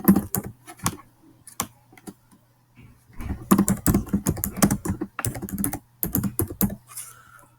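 Rapid clattering keystrokes on a computer keyboard as a caption is typed, coming in bursts with short pauses, close and clear with no talking.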